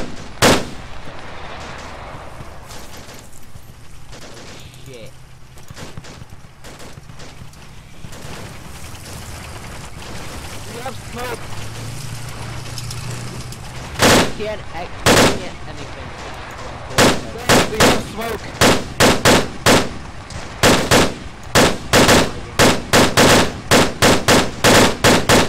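Gunfire in a military game mission: distant scattered shots early, then loud close bursts of rapid automatic fire in repeated volleys toward the end, with occasional voices in the background.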